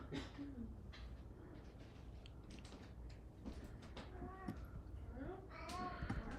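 A house cat meows several times outdoors, short rising calls scattered through the clip over steady background noise, while a person talks to it nearby.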